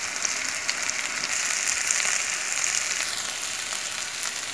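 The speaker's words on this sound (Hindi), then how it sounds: "देखिए एक तरफ से हमने इनको पलट दिया है, अब इसको थोड़ा स्लो फ्लेम करके हम पकाएंगे।" Mughlai mutton chaap sizzles steadily in a hot pan right after being flipped, cooking over a lowered flame: a close, even, continuous frying hiss with small crackles and no talking.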